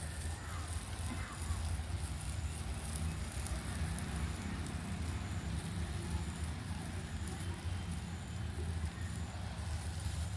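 Leafy greens, including coriander, gongura and spinach, fry in a pan with a steady, soft crackling hiss that continues evenly throughout without a break.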